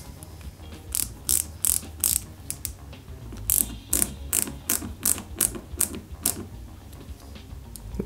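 Screwdriver driving small screws into parts of an Ecto-1 model kit, a close series of quick ratcheting clicks in short bursts, pausing then resuming, ending quieter.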